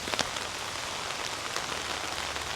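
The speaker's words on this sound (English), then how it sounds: "the rain's really starting to come down now." Rain coming down outdoors at a Buddhist temple site, a continuous broadband hiss of drops striking surfaces with a few crisp nearby splats, steady and fairly loud throughout, no talking.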